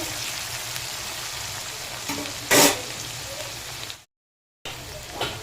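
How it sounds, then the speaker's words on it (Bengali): Chopped onions frying in a pan for an egg curry, a steady close sizzle with a brief louder burst of stirring, then a short gap of silence before the frying resumes. "পেঁয়াজটা ভালো করে ভেজে নেব"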